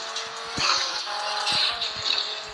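Car engine droning steadily in a PC car racing video game, with a sustained mid-pitched hum and occasional short thumps and bumps as the vehicle is driven clumsily.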